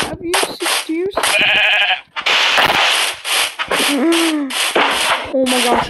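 Sheep in the Minecraft video game bleating several times in quick succession, loud and close, among blocky game sound effects.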